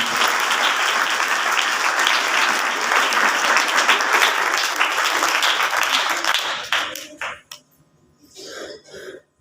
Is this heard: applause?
yes